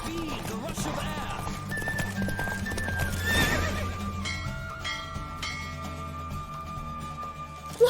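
In the video game Witcher 3, a horse gallops with quick, steady hoofbeats and lets out a neigh partway through, mixed with game music and background voices.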